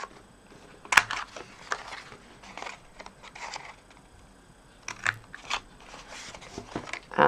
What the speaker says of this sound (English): So I've got my corner rounder punch.